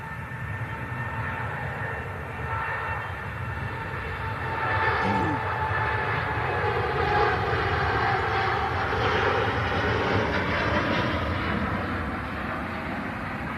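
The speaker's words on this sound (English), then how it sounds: "The Gulf Air Dreamliner rolling down 2-3 right, departing off to Bahrain." A Gulf Air Boeing 787 Dreamliner taking off from runway 23 right bound for Bahrain, a loud steady jet engine roar held at a distance with a slowly shifting tone.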